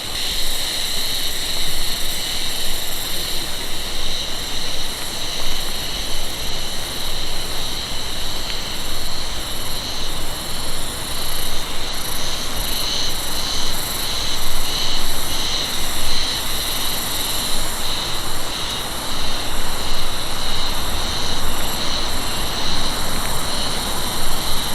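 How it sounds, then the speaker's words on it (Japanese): Cicadas singing overhead during a campervan road trip in Japan, a dense steady high-pitched drone with pulsing bands throughout, loud and continuous over a broad background hiss, no voices. "セミ鳴いてるよね、絶対これ。"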